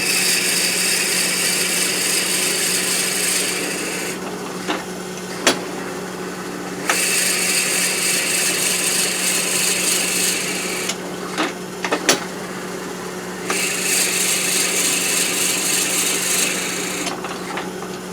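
Wood lathe boring a peppermill blank with a drill bit held in the tailstock quill, a steady grinding, rasping whir with several short breaks where the cut pauses, close and fairly loud throughout.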